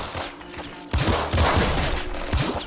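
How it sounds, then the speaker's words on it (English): Rapid auto crossbow fire in the video game Nuclear Throne, a dense, continuous burst of overlapping shots and impacts at steady loudness, with sharper hits standing out near the start and middle. "So the auto crossbow is really powerful here."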